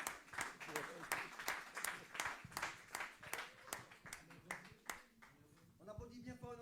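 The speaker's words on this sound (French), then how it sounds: "On applaudit bien fort notre frère Franck." A church congregation claps for brother Franck, a quick run of sharp hand claps repeating steadily, close and fairly loud, then thinning out toward the end as a voice comes in.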